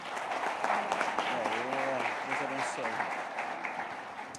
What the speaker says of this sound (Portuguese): Vamos aplaudir Cristo.